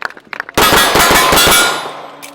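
A pistol shot rings a steel target in a shooting demo, one sharp loud crack and bright metallic clang that rings out and decays, with faint clicks just before.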